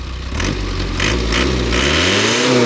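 An Isuzu KB pickup truck engine revs steadily and loudly, its pitch climbing toward the end, with a rough mechanical drone throughout.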